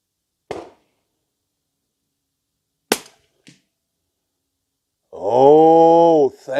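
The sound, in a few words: gunshot from Ruger American 300 Blackout rifle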